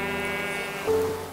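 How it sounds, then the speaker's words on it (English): Sheep bleating in the Minecraft video game, a game creature's sustained nasal bleat rising briefly near the end of a short burst, with no speech over it. "sheep. Sheep."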